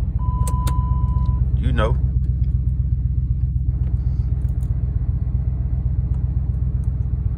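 A Dodge Charger, a 2015–2023 model tuned with a Diablo i3 performance programmer for 93-octane fuel, cranks briefly and starts, then settles into a loud, steady, deep engine rumble while a person talks over it.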